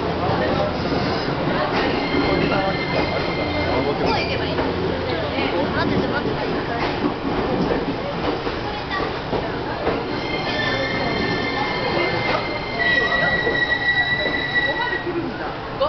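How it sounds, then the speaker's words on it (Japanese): An E257 series Azusa limited express train rolls into Minami-Otari station with screeching, squealing wheels and rumbling cars, while station announcements echo over the platform. "特急入線いたしております。"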